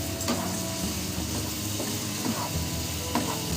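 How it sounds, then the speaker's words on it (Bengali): Spice paste for a vegetarian potato curry fries in a pan, a continuous loud sizzle and hiss with occasional scraping and stirring clicks, close and without talk. "মশলাটা বেশ কিছুক্ষণ ধরে কষিয়ে নেব।"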